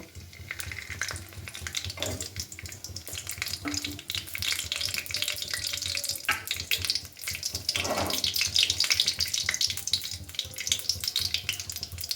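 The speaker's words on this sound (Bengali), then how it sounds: "তেল গরম হয়ে এলে তার মধ্যে জিরার ফোড়ন দেব আর তেজপাতার ফোড়ন দেব" Cumin seeds and bay leaf crackle and sizzle in hot mustard oil as a busy, fluctuating hiss, with stirring scrapes, close and continuous, and no talk.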